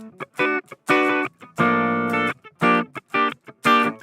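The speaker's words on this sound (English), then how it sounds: "So this is just the guitar by itself." A distorted electric guitar is played dry with no reverb or echo, in short choppy chords and stabs separated by silent gaps, with one longer sustained chord in the middle.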